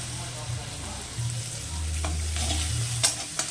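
Meat drops into onions frying in a pan with bay leaf and cardamom, setting off a close, loud sizzle with stirring scrapes, low clatters and a couple of sharp taps.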